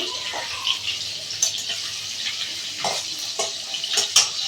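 Fish curry cooking in a pan with fish, onion and garlic, a steady bubbling sizzle broken by scattered clinks and scraping stirs close by.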